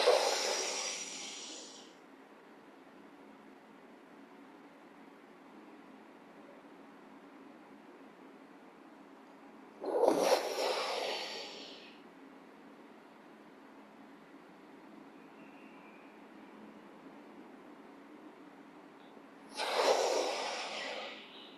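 Three Sitali cooling breaths during a hatha yoga session, each a sharp, hissing inhale through a rolled tongue, spaced about ten seconds apart. Close and clear over a faint steady background hum, with no talk.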